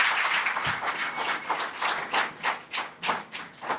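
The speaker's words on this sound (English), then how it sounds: "Can we get a round of applause for Jayson Tatum?" A small group claps for basketball player Jayson Tatum, with sparse clapping settling into distinct, fairly rhythmic claps close by.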